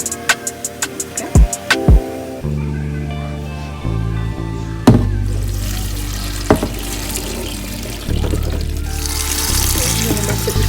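Water runs into a kitchen sink as noodles are drained, opening with quick knocks before a steady splashing stream that shifts in tone as the flow and pouring change.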